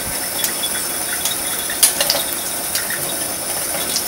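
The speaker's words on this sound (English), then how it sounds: "run it under the water again" Tap water runs steadily over a warm peeled boiled egg, a constant hiss of flowing water with a few soft splashes and no talking.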